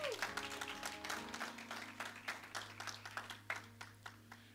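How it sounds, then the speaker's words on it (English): A church congregation applauds at the close of a worship service, the clapping spread across the room and steady, with sustained organ or keyboard tones humming beneath it. "Give God another big round of applause."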